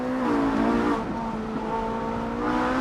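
A Ferrari 458 Italia with a 9,000 RPM V8 sings at high revs, a steady loud engine note that dips briefly as it shifts, then holds and rises again, with no voices.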